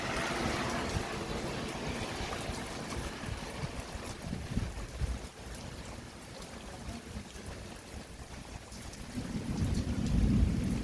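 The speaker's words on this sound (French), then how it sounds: "Ça commence le tonnerre enfin." Deep thunder rumbles through a strong spring storm at Montady, Hérault, rolling low and continuous with steady rain hiss, swelling louder toward the end.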